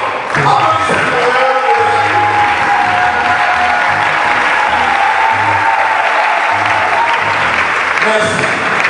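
Sustained, loud audience applause fills a Salvation Army retirement celebration for two colonels in the DRC, dense and steady throughout with faint voices and crowd noise underneath.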